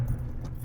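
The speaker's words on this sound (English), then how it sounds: "take out your keys." Keys jangle briefly and softly as they are pulled from the ignition of a boat tender, with a low rumble of motor or water noise underneath.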